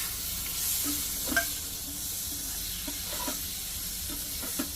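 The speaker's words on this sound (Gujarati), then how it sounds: "ચડતા નાખો એક ટામેટું" Chickpea, spinach and aubergine curry sizzling and frying in a pan as a tomato goes in, with a steady hiss and a few soft stirring knocks and scrapes, close and moderately quiet.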